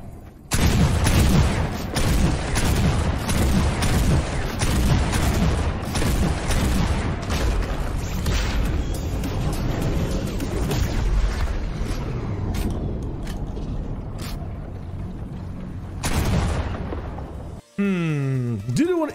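Rapid bursts of exotic shotgun fire in the Fortnite video game, loud and dense booms hammering one after another with short gaps, followed by a brief electronic sweep near the end.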